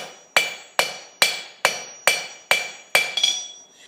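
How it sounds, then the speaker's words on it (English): A hammer strikes a cheese knife blade being forged on an anvil, seven sharp metallic blows at an even pace with ringing decay after each, close and loud, the last followed by a short clatter. "half on, half off hammer hits"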